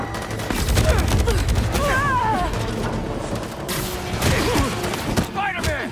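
Gunfire breaks out in the video game Marvel's Spider-Man 2 as a mix of sharp shots and crashes sounds alongside loud music and effects. Voices shout over the action.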